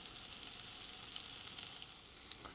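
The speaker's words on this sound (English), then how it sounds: "We're just going to do a little pan fry just to crisp up the prosciutto." Prosciutto-wrapped figs sizzle steadily in a frying pan, a faint, continuous crackling hiss with small pops and no voices.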